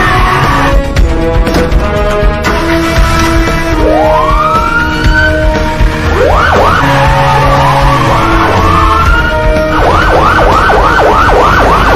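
An ambulance siren in the 2011 action film Don 2, loud and continuous with rising and falling wails that speed into rapid yelps, heard alone without talk.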